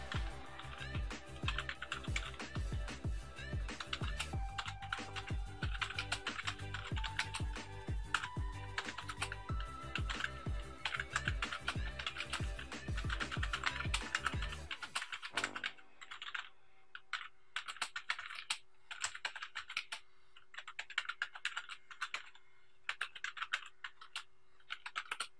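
Fingers type quickly on a cheap Piranha 2345 gaming keyboard, giving a dense, continuous clatter of close key clicks. The clatter stops abruptly about two-thirds through, and a few sparse clicks follow over a quieter background.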